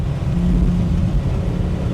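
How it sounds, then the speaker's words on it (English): A Maserati Bora engine pulls steadily under acceleration, a dense low drone holding close and loud for about two seconds with no voices. "It's like pressing the pedal of a generator, that engine."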